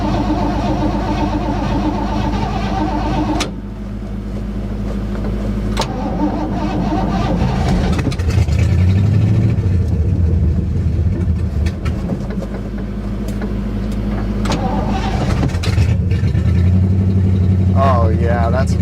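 A 1960 Chevrolet Impala V8, freshly restarted after a carburetor cleaning on a car that sat for 32 years, cranks and runs loudly up close, idling roughly and revving unevenly, with voices talking over it.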